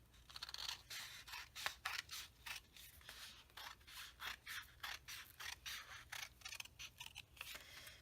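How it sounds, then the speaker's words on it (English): Scissors cutting scrapbooking paper, a series of crisp, close snips that repeat in an uneven rhythm, each with a slight papery rasp, with nothing else heard. "So that is why I am cutting it out."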